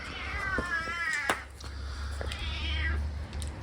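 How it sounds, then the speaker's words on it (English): A village cat meows several times close by, with drawn-out, wavering cries, while people talk quietly in the background. "Come on, village cat."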